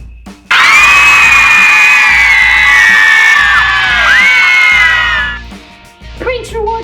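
Speakers fitted to a chair blast a loud, shrill recorded scream as a prank, one sustained wailing burst lasting several seconds before cutting off, followed by brief voices.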